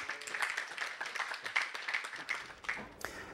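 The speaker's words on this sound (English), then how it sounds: "Give him a round of applause." Audience applause for a university lecture guest speaker being introduced at a talk on iPhone expressive social media, a steady crackle of many hands clapping at moderate volume for a few seconds.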